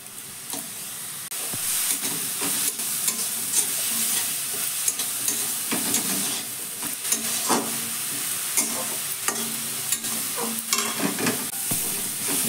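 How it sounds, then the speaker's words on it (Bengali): Chopped vegetables fry in a covered pan over a medium gas flame, giving a steady, close sizzle with bursts of hissing steam and occasional stirring scrapes, with no voices. "এবার সব কিছু ভালো করে মিশিয়ে দিয়ে আমি একটু ঢাকা চাপা দিয়ে এই সবজিগুলোকে ভেজে নেব।"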